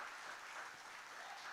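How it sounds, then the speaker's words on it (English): Crowd cheering and applauding at a London Majors baseball game against the Toronto Maple Leafs, a steady broad wash of distant noise with no clear voices. "As you hear the crowd cheer there."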